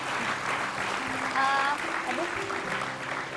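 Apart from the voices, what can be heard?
audience applause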